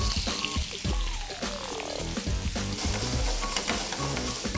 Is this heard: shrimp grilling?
yes